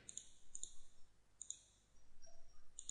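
Computer mouse clicking, a few light, faint, sharp clicks spaced irregularly in a quiet room, with no talk.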